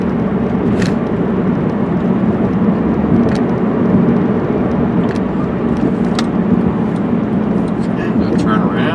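A 1998 Honda Accord cruises down the road, giving a steady loud rumble of engine and tire noise from inside the car with a few brief clicks over it.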